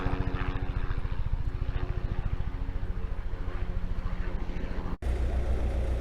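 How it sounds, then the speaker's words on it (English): A helicopter's rotor thumps in a fast, steady low rhythm overhead, loud and continuous, cutting out briefly near the end before resuming. "it looks like there's a helicopter flying over the kingdom again"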